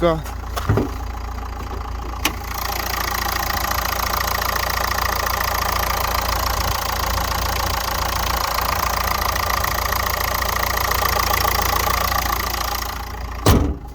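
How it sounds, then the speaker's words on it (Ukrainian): Diesel 1.5 K9K engine of a 2013 Nissan Qashqai idling smoothly with the hood open, a steady even hum close by throughout, with brief knocks or clicks near the start and end. "м'ягенько працює двигун к 9"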